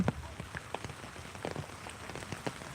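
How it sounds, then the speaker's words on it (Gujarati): Light rain patters softly on a surface, scattered drops tapping irregularly at a low, steady level with no voices. "ઝીણો ઝીણો વરસાદ આવી રહ્યો છે"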